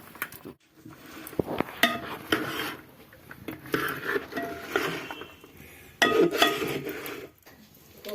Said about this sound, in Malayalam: നമുക്ക് ഉരുളി അടുപ്പിൽ നിന്ന് മാറ്റി വെച്ചിട്ട് നന്നായി ഇളക്കിയെടുക്കാം